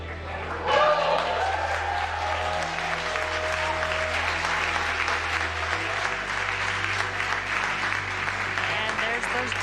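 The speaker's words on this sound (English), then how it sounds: "you can hear the crowd here very excited to see them deploy" A crowd watching the SpaceX/NASA Crew 4 capsule splashdown breaks into sustained applause and cheering as the drogue chutes deploy, with a steady low hum underneath and voices in the mix.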